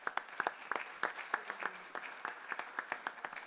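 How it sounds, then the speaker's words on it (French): A small audience at a rural innovation award ceremony claps with sparse, distinct hand claps in an uneven rhythm, faint and somewhat distant. "Je crois qu'on peut applaudir,"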